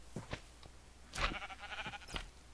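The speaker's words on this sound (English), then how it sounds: "Sheeps." Sheep in the Minecraft video game bleat a few times, short wavering calls at moderate volume with no talking over them.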